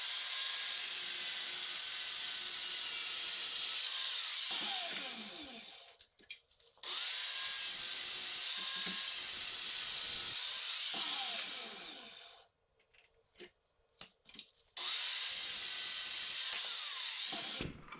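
A power tool cuts around the lip of an oil filter clamped in a vise in a garage, loud close bursts of high grinding whine lasting several seconds each, separated by short pauses with clinks.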